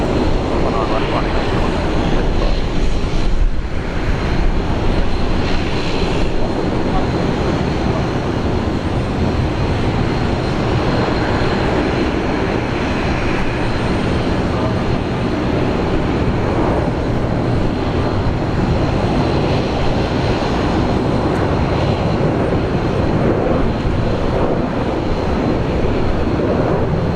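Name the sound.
Qantas airliner taking off from runway 19 left, Brisbane Airport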